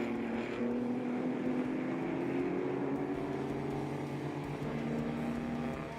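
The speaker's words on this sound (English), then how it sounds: "Mark Dutoy has the Porsche 917 of Colin Frost bearing down on him as they come through the bowl" Vintage racing cars, including a Porsche 917, pass through the bowl section of a racetrack, a steady engine drone with a rising and falling pitch, heard at moderate distance.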